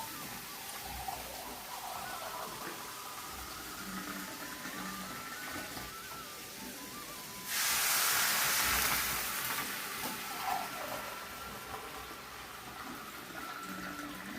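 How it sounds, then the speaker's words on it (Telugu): Water poured into a pan for an oats tiffin, a loud rushing splash lasting about two seconds mid-clip over a quiet kitchen background. "వాటర్ పోసేసుకుందాం"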